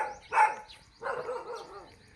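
A dog barks at a passer-by on an early-morning neighbourhood walk: one sharp bark, then after a pause a longer, wavering bark or whine, fairly close, with no talk over it.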